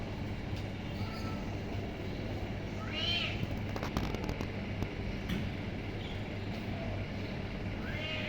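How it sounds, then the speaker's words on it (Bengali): A large tomcat gives two drawn-out meows, one near the middle and another at the end, over a steady low droning background. "ওই যে আমার বাসার সামনে যে রাজা বিড়াল আছে না ওই রাজা বিড়ালটা"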